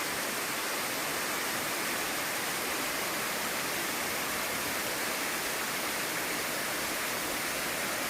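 A steady, roaring rush of falling water from Kuzalan Waterfall in Giresun, Turkey, fills the air, loud and unbroken throughout, with no voices.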